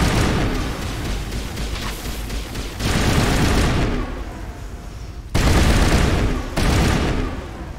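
Loud, sustained bursts of gunfire from a gun in the sci-fi shooter Mass Effect Legendary Edition, rapid shots running in long stretches with brief pauses between volleys, close and dominant with no talk over it.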